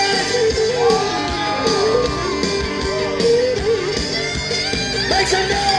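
A speedway crowd at the Birch Run Speedway JEGS/CRA Triple Crown racing event cheers, yells and whoops in rising and falling bursts, loud and close, with several voices shouting over one another.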